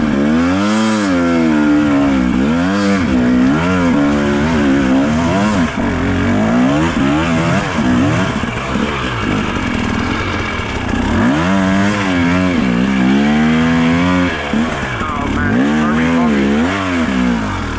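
A rebuilt 2017 KTM 300 dirt bike revs hard in repeated rising and falling bursts while trying to climb a wet, muddy bank, the two-stroke engine loud and close throughout.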